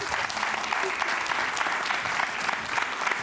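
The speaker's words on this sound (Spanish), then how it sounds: "nos dan un aplauso ya así de entrada" Applause at a samba dance lesson event, a loud and dense clapping that holds steady from start to finish.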